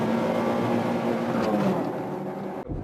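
A Volkswagen Voyage Trendline with a 1.6 engine drones loudly at high revs, holding a steady pitch as it pulls in second gear, then cuts off abruptly near the end.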